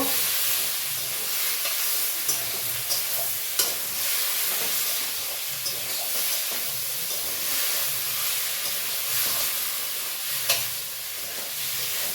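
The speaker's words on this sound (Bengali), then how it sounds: "টমেটোগুলো দিয়ে এবার আমি একটু নাড়াচাড়া করে নেব।" Tomatoes and small fish being stirred in a pan for a spicy fish curry sizzle with a steady frying hiss, punctuated by occasional scrapes and taps of the spoon against the pan.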